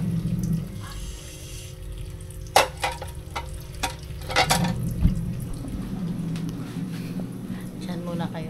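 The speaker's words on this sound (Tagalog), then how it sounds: "Ang dami ng hugasan ko pa." A pile of dishes being washed with water at a home sink: steady running water with scattered clinks and clatters of crockery, and a voice speaking at times.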